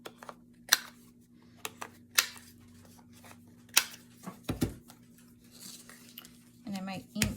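Scissors snip through paper for an art therapy craft, giving a few sharp separate cuts and rustles spread apart in a quiet room.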